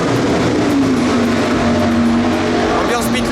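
A classic 328 in the Le Mans Classic pit lane, with a loud steady engine drone and a rising engine note at the end, while people talk over it.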